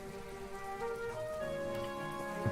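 Rain falling in My Time at Portia, a continuous soft hiss of drops beneath sustained musical tones, steady throughout with no pauses.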